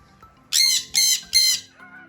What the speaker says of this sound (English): I have like 5 birds in my hair today